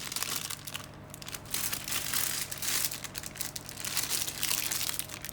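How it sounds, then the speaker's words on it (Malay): A plastic bag filled with coconut milk is twisted and tied tightly by hand, giving continuous close crinkling and rustling of thin plastic with no speech. "Ikat santan plastik 4x12"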